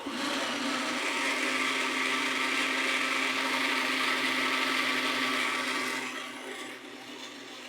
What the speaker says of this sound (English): This blender actually is really quiet compared to a lot of blenders